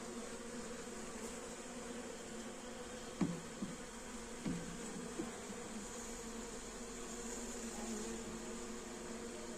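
Honeybees hum at a hive during the first day of setting up a hive heating system, a faint, steady buzzing drone with a few soft knocks.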